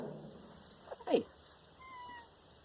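An outdoor cat gives a single short, faint meow midway through, against quiet surroundings with a thin background whine.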